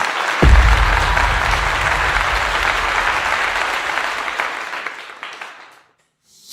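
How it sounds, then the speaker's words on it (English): Applause breaks out abruptly with a sharp onset, a loud, full round of clapping that gradually thins and fades out before falling silent near the end. "Let's give it a clap right now."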